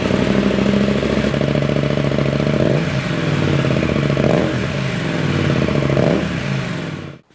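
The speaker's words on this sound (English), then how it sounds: "This is what it sounded like with the Aero exhaust with the baffle still in." A KTM 890 Adventure fitted with an Arrow titanium exhaust, baffle still installed, idles close by with a steady throb and blips the throttle into a few short revs before cutting off.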